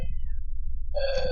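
A single domestic cat meows in the final half-second, a clear, tonal cry rising over a low, steady hum that runs underneath throughout.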